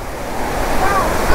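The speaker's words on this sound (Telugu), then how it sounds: "వాటర్ ఫాల్స్ అయితే చూస్తున్నారు కదా." Water rushes steadily at the hidden blue Mashenlodhi waterfalls near Warangal, Telangana, a dense, even roar mixed with some wind buffeting, filling the whole moment without a break.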